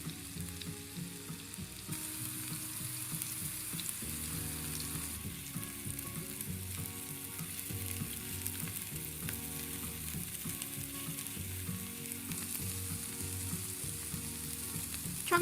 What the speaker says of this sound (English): Add half of the meatballs to the pan and fry, turning occasionally until browned all over.